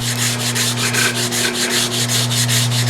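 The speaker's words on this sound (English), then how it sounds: "I just got a little bit of sandpaper here" Sandpaper scrubs rust off a steel car wheel in fast, even back-and-forth strokes, a close, loud rasping rhythm over a constant low electrical hum.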